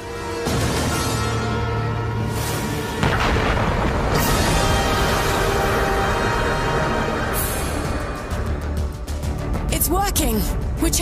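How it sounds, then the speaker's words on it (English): Nuclear bombs explode on an asteroid in the animated series Thunderbirds Are Go: several deep, rumbling booms hit in succession over a sustained low roar, with voices faintly under the effects. "the safest place to be when those nukes go off is aboard Thunderbird 3"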